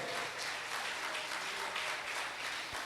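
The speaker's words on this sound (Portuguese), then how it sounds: "Aplauda ele." A crowd applauds continuously, a dense wash of many hands clapping at a steady level for a few seconds with no voices.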